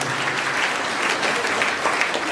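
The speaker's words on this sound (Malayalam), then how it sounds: "നമുക്ക് നല്ലൊരു കൈയടിയോടെ നന്ദി അറിയിക്കാം." A parish gathering at the blessing of a church Sunday school building breaks into warm thank-you applause, a full, even burst of many hands clapping throughout the short moment.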